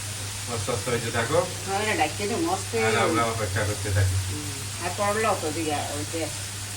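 Tilapia fish frying in hot oil gives off a continuous hissing sizzle that runs under someone talking for the whole stretch.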